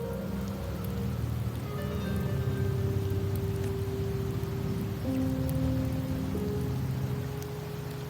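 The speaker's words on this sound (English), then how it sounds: "The rains in Septimont never seem eager to leave this season." Steady rainfall in Wuthering Waves pours down on surfaces as a continuous patter, loud and even throughout, with faint tonal music-like hums layered underneath.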